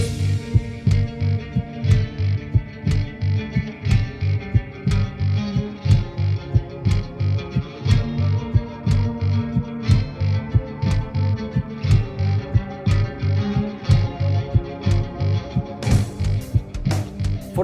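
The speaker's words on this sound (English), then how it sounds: "I'm adding more reverb and more delay and an octave in front" A deep, pulsing bass line thick with octave layers, washed in reverb and echoing delay, throbbing steadily and loudly with no voices.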